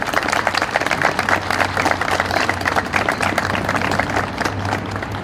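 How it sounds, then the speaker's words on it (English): An audience at a city Veterans Day ceremony gives a steady round of applause, dense clapping sustained evenly for several seconds with no talking over it. "Can we give them all a round of applause"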